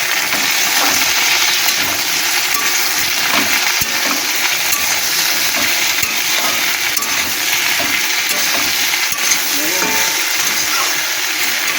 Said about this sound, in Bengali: এক চামচ মতন আদা রসুন বাটাটা দিয়ে দেবো দিয়ে দিয়ে একটু একটু কষিয়ে নেবে